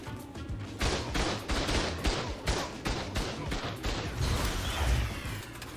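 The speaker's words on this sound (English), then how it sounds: "I'll never get used to the feeling of having a bunch of turrets just shoot me up." Auto turrets in the video game Ark unleash sustained rapid gunfire, a loud, dense, continuous volley of overlapping shots that barely lets up.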